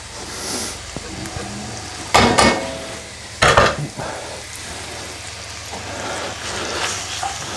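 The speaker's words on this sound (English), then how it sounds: "My favourite sizzle sound." Onions hitting a hot pan for a classic curry, with a loud sizzle that bursts up twice and then settles into a steady frying hiss. Someone speaks briefly.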